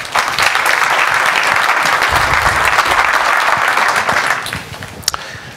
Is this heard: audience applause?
yes